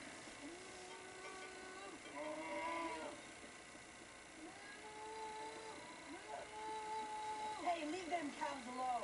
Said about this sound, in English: Hey, leave them cows alone.